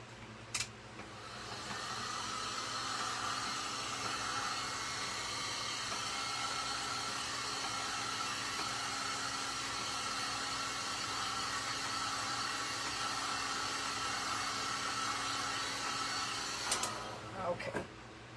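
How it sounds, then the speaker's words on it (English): A blow dryer runs with a steady, loud whooshing hiss for most of the stretch, starting and stopping with brief clicks at each end, used on an outdoor yard decoration. "we're going to hit this with the blow dryer a little bit"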